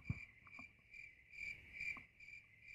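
Crickets chirp in a steady, high-pitched trill with soft pulsing repeats, fairly quiet and alone with no talking.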